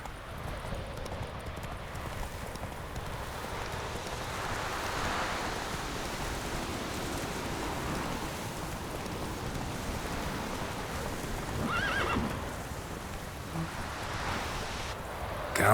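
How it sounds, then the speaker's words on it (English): Roach, a horse in The Witcher 3 on Nintendo Switch, clip-clops steadily across the ground at a walking pace, mixed with a rain- and wind-like wash of outdoor ambience; no neigh stands out clearly. "Whoa there, Roach"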